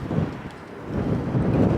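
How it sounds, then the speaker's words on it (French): Strong wind roars and buffets the microphone in a continuous, low rumbling rush. "Il y a un vent de malade."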